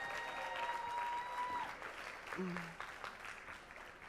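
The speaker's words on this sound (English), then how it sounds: "Let's give everyone from Del Vallejo another big round of applause." Audience applause at a school board meeting, a broad wash of clapping lasting a few seconds with some faint tonal sounds and brief voice-like bits mixed in, moderately distant and fading toward the end.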